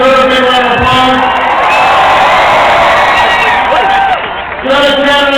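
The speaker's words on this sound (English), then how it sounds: "Give her a big round of applause." A large political rally crowd in Albuquerque, New Mexico cheers and applauds loudly and continuously, with whoops rising over a dense wall of noise and a brief dip near the end.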